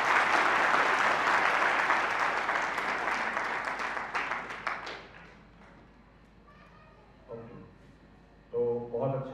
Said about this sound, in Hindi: आइए ताली बजाइए।